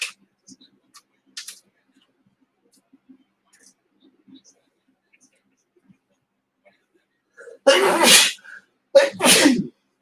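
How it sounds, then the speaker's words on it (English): Two loud, close sneezes burst out one after another near the end, after a stretch of near silence broken only by faint clicks and light taps. "Sorry, I don't want to get on camera sneezing."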